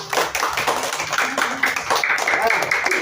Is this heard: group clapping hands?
yes